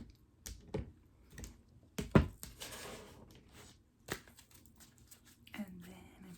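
A deck of tarot cards is cut three times, giving soft papery slaps and riffles in a few quick bursts, close and fairly quiet, mixed with light handling noise.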